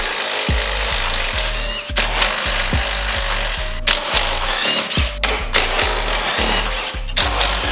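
A ratchet loosening 14 mm sway bar bolts on a Nissan 350Z: loud, close bursts of quick metallic clicking that repeat in a steady rhythm with brief pauses between strokes, heard alone.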